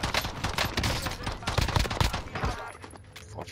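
Rapid pistol gunfire in Call of Duty Warzone on Rebirth Island, loud bursts of shots crowding the first two and a half seconds and then easing, with a player's voice talking over the fight.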